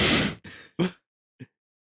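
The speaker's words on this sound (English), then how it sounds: "he's actively coughing up his lungs" Three harsh, rasping coughs come in quick succession, loud and close, followed by a short pause and a small final hack.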